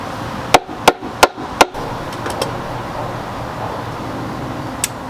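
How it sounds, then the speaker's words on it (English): Mallet blows knocking a slightly oversized wooden piece into place during a stoop renovation: four sharp, loud strikes in quick succession, followed by a few lighter taps and one last faint knock. "Gonna go get my mallet."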